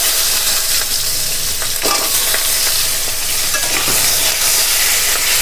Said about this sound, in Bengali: পেঁয়াজগুলো আমি তেলের মধ্যে একটু ভাজা করে নেব